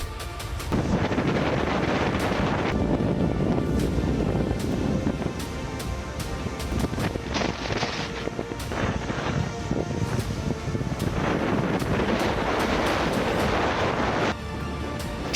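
Strong wind from Cyclone Montha roars and buffets the microphone while high sea waves crash on the Odisha coast, a loud, continuous, turbulent rush with surging bursts throughout.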